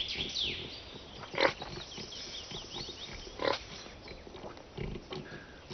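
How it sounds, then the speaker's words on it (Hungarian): A pig rooting in forest soil while hunting for truffles, with soft snuffling grunts and a few louder snorts at intervals over a muffled, close background. "disznókat használnak a gomba felderítésére"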